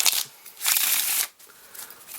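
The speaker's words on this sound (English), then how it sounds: "We can also do a one-handed Riffle Shuffle there." Deck of Bicycle Shadow Masters or Altruism playing cards being riffle shuffled, giving close, crisp fluttering bursts of cards interleaving, two main riffles separated by brief pauses.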